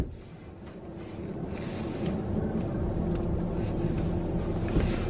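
Wind blowing outdoors, a steady low rumbling roar that buffets the microphone and slowly builds in loudness, with no talking over it.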